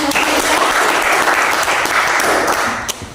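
A classroom of students applauds during a physics lesson, a loud, close burst of dense clapping that holds steady for about three seconds before tapering slightly at the end.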